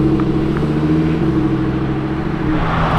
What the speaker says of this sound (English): Alright, we have a Urus incoming.